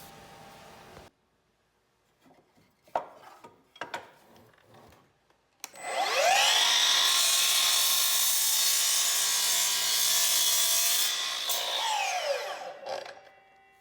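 A saw cuts through a wooden gable end wall stud in one long, loud, steady stretch that lasts about seven seconds. A few knocks and light handling sounds come before it, and there is no talk.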